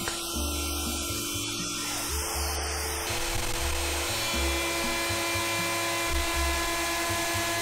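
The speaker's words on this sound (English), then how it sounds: "the chips flying out the bottom of the router because somebody forgot to plug in the dust extractor" A wood router cuts an oak end grain chopping board with no dust extractor running, giving a steady, loud high whine with shifting tones. It runs continuously throughout, with no voices.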